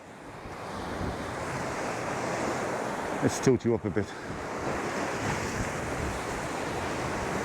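Strong wind buffets the microphone over steady crashing surf on a rocky Maltese coast, with a brief spoken remark partway through.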